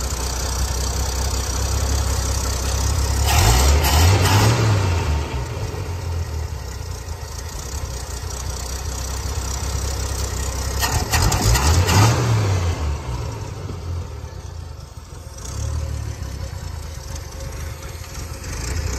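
A 1980s Ford engine with a Dura Spark ignition, fed by pouring fuel into the carburetor, cranks and catches in two loud bursts before fading back to a steady rumble. It is close and runs continuously, with no talk.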